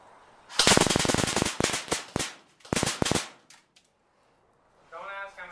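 King Arms M4A1 airsoft rifle firing on full auto: two long rattling bursts of rapid shots, then a few short bursts, loud and close, followed by a brief voice near the end.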